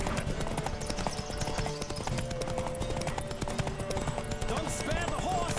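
Horse hooves galloping in The Witcher 3 during a race, a fast, steady clip-clop drumming under game music, with a brief voice near the end.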